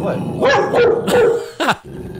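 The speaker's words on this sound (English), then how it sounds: "So she keeps barking at stuff." A dog barks several times in close, sharp yips and barks mixed with a growl, heard indoors behind people talking.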